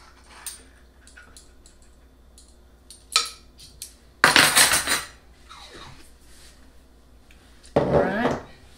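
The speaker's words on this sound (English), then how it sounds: "I'm just going to kind of mix that together before I add the other ingredients" A spoon mixes salt, black pepper and other spices in a bowl in a few loud scraping, clinking bursts separated by quieter stretches with faint kitchen clatter.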